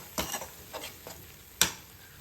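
A ladle mashes cooked chana dal in a pan on the stove, giving a few soft, squelchy scraping strokes and one sharper clink of metal against the pan, close and fairly quiet.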